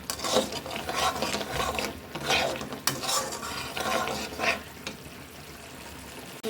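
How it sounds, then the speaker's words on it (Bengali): Lentil dumplings (kumro bori) sautéed in a pan where fish was just fried, with repeated scraping stirs over a continuous sizzle, close and fairly loud, no voices. "এইবার আমি বড়িগুলো দিয়ে দিচ্ছি। বড়িটা কষানোর পরে আমি আলুটা কষিয়ে নেব।"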